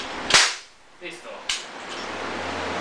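Three sharp pops from a toy cap gun revolver, a loud first crack followed by two smaller snaps about half a second apart, with a steady low hum afterward.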